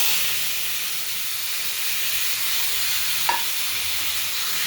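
Panch phoron spices and a dried chilli sizzling in hot oil, a loud, dense, steady hiss close by with one brief clink partway through and no voices.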